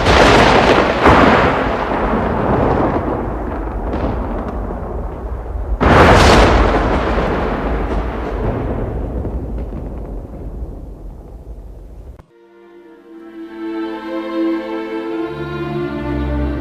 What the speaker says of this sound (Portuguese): em seguida um forte barulho de trovão